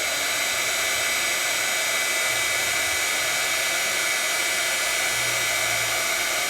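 A heat tool blows steadily on a cardmaking die, a continuous broadband whoosh of hot air that holds fairly loud and even throughout, with no voices.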